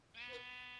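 A baby sheep bleats once in a video game, a short, wavering, high-pitched cry that starts abruptly and holds steady to the end, clear and fairly close over a faint background.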